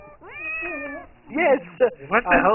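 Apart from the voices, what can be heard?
cat meowing in the video game Monaco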